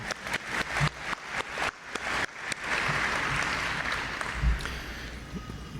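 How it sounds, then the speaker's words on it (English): At a grand opening ceremony for an event centre, a few slow, distinct claps quickly swell into full audience applause, a steady wash of clapping held for several seconds. "Let's clap for Paul."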